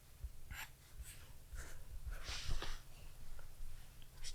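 Stylus strokes on an iPad screen come as soft, close scratchy taps and short swipes in an intermittent rhythm, faint and intimate, with low background rumble and no talking.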